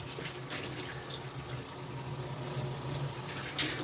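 Water runs steadily down a glass surface that has been cleaned to test water-spot removal, making a close, continuous trickling and splashing with no voices.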